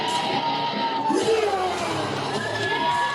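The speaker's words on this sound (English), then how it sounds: "Crowd decisively behind Jason Boa." A wrestling crowd at a Capital City Wrestling show shouts and cheers in a hall, with whoops and yells rising over a constant crowd roar for a few seconds.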